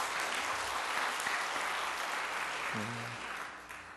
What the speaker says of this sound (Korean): 박수 한번 하실래요?